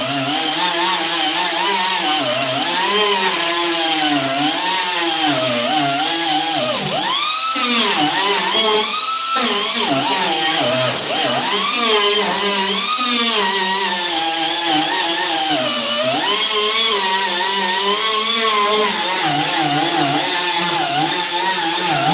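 A Roloc disc grinder strips Bondo and fiberglass from a Honda Del Sol body, producing a loud, continuous high-pitched whine that rises and dips in pitch as the disc bites and eases off, close and unbroken throughout.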